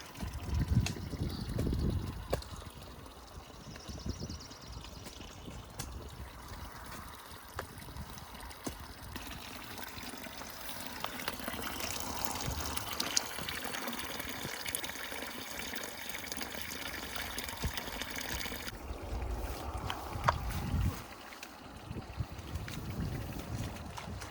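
Quiet, continuous trickle and babble of natural spring water in Alaska running over stones, steady throughout, with faint splashes and small movements nearby.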